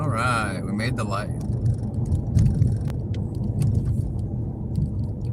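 Busy morning traffic of cars, a steady close engine and road rumble heard from inside a vehicle, with a brief jingle and clicks near the start and people talking over it.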